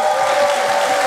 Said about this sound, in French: On peut applaudir pour nos invités